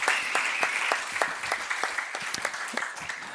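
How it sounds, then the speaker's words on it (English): An audience claps at a Volt Belgium general assembly, a sustained, fairly quiet round of applause with individual sharp claps standing out, heard from a moderate distance and fading slightly toward the end. "A big round of applause for the fantastic General Assembly."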